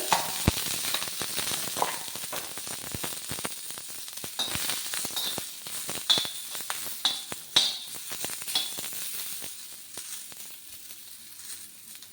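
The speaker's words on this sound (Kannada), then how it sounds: "ಇದನ್ನು ಸ್ವಲ್ಪ ಎಣ್ಣೆ ಹಾಕಿ ನೀಟಾಗಿ ಹುರ್ಕೊಳ್ಳೋಣ." Onions frying in oil in a home kitchen pan, a steady close sizzle with bursts of crackling and occasional stirring scrapes and clinks throughout.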